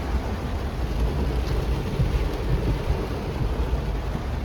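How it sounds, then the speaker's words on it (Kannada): Heavy monsoon rain pours at Malpe beach in Udupi, a dense, steady roar of rainfall that fills the whole scene without pause. "ಯಾಕಂದ್ರೆ ಅಲ್ಲಿ ಮಳೆ ನೋಡಿ ಹೆಂಗ್ ಬರ್ತಿದೆ"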